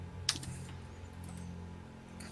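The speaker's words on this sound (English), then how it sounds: "my keyboard is loud" A loud computer keyboard clacks in a short burst of keystrokes, close and distinct, followed by a few lighter taps against a quiet background hum.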